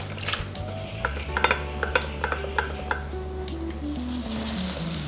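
Cooked beef being stirred into sautéed onions in a pan for a Kerala-style beef fry, with a steady sizzle under repeated scraping and clinking of a spoon against the pan, close and moderately loud.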